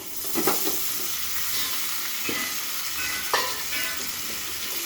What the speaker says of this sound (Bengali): এখন আমি এই ভাজা ফুলকপি ভাজা, আলু ভাজা, ডিম ভাজা আমি এর মধ্যে দিয়ে দিলাম